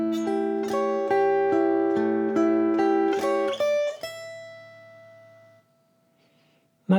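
A ukulele plays rock-blues bars of rhythmic strummed chords that stop on a held chord, which rings out and fades into near silence before a sudden new strum.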